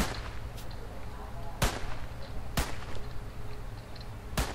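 In the video game Anti-Apocalypse, three sharp, cracking gunshots ring out a second or so apart over a constant rumbling game background.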